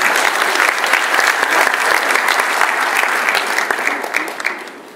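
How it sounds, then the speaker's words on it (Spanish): Loud, sustained applause from an audience at a public event on early cancer detection, steady dense clapping filling the whole stretch and easing slightly toward the end. "para que pida un fuerte aplauso"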